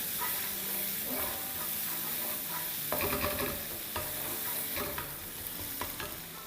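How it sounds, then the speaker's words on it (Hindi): Ground spices with Kashmiri chili powder and garam masala roast in a pot while being stirred, giving a steady close sizzle with repeated scraping and clinks of the spoon against the metal. "और अब इसको हिलाएंगे। इसको थोड़ा सा भूनेंगे।"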